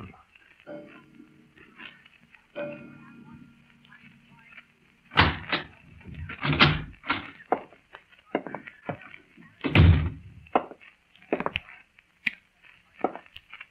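A door opens in a darkened room as a radio drama sound effect, heard as a scatter of sharp knocks, clicks and thuds of moderate loudness over quiet room tone.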